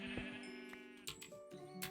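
Sheep bleating in Minecraft, several wavering bleats layered close together, faint and alone.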